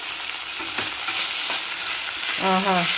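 Sweet corn kernels frying and being stirred in a pan for corn pulao, a steady hiss of sizzling under scraping spatula strokes, with a brief tonal squeak near the end; no talking.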